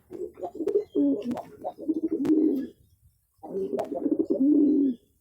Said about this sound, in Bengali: দেখেন দেশি কবুতরটা কিরকম এর মাদির সাথে ডাক দিতে আছে